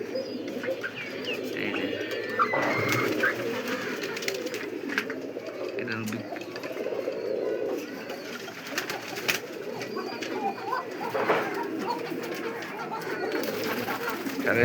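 Pigeons coo steadily from a crowded cage at a fancy and racing pigeon farm in Savar, a dense layered murmur of many birds close by, with someone talking briefly over them.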